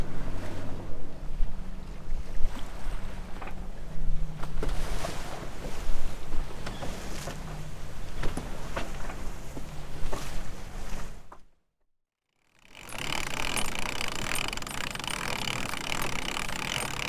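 A boat crosses a lumpy river bar at sea, with engine rumble, rushing water and wind buffeting the microphone in uneven surges. Sound cuts out briefly, then returns as a brighter hiss of wind and spray.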